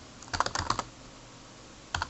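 Keys clacking on a computer keyboard while text is entered into a flatfile database form, a quick burst of several strokes followed by a pause and then two more taps, close and fairly quiet.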